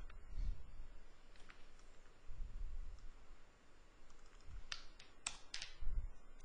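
A computer keyboard clicks as a value is typed, several crisp light keystrokes in a quick cluster near the end, faint and close over low background hum.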